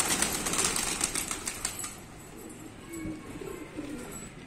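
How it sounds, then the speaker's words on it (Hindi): Pet and wild pigeons gather at scattered grain, wings flapping in quick bursts at first, then low cooing and shuffling as they settle to feed. "तो वो मेरे कबूतर भी आ रहे हैं और साथ में जंगली कबूतर भी।"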